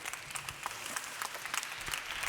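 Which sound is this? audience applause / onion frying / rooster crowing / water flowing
audience applause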